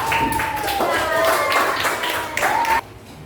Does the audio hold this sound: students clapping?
yes